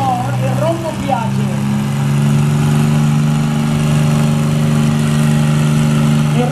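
Modified tractor engine at a power pulling competition, a loud sustained roar with steady low drone, heavy and near, with crowd and announcer voices mixed in throughout.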